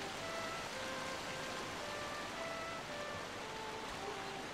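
Steady rushing waterfall in The Legend of Zelda: The Wind Waker, a constant broadband hiss of falling water with soft game music tones drifting faintly above it.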